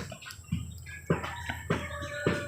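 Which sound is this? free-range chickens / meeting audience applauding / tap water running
free-range chickens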